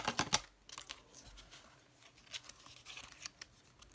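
Scissors trimming excess paper for a mini notebook, a quick crisp cluster of snips at the start followed by scattered soft cuts and paper rustles, quiet and close, no talking.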